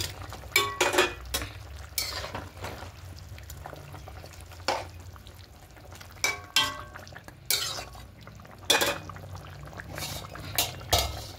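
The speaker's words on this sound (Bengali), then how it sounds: "যে এবার এখানে ভেজে রাখা মাছগুলো দিয়ে দেবো।" Fried rohu fish pieces are added to a simmering potato curry in a pan: repeated clinks and scrapes of a utensil against the pan, with a quiet bubbling simmer in between.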